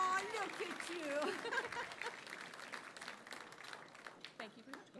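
An audience applauding at a regional television awards ceremony, a sustained patter of clapping from a crowd with a voice speaking over it at the start.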